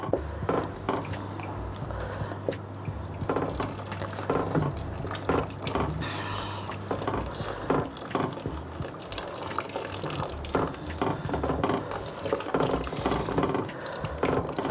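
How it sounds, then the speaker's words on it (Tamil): Hot water pours steadily into a pot of sambar (toor dal) on the stove, a continuous close liquid rush that runs unbroken for about fifteen seconds. "சுடு தண்ணி சேர்க்குறேன்."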